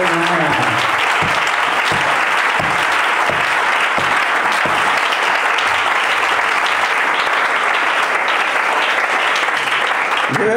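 A church congregation claps together in a loud, dense burst of applause that carries on unbroken from start to finish, with crowd voices and cheering mixed in.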